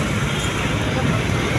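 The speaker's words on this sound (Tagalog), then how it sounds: "napakaraming mga motor, may bus" Busy Manila street near CM Recto in Quiapo, with motorcycles, buses, taxis and e-bikes passing in a loud, steady roadway rumble, and voices in the background.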